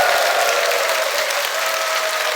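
A church congregation at a dawn prayer service at Gunsan Seonggwang Church bursts into loud, dense applause mixed with raised voices, filling the room at steady full volume.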